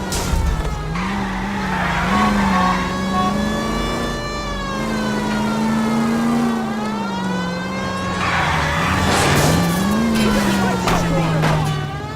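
Car engine droning and revving with tire squeal during a high-speed chase in L.A. Noire, steady and loud throughout, with a wavering siren-like tone riding over it.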